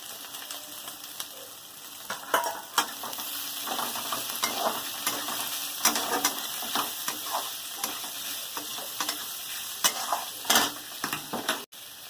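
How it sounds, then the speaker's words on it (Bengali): Two large chopped onions fry in hot oil with a continuous close sizzle, broken by scraping stirs and occasional light clinks of utensils against the pan. "দুটো বড় সাইজের পেঁয়াজ কেটে রেখেছিলাম দিয়ে দিচ্ছি।"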